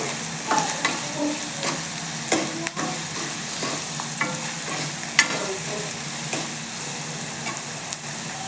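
Onions sautéing with salt in a pan, steady sizzle with frequent spoon scrapes and stirring clatter, close and continuous, no talking, for spicy chhole.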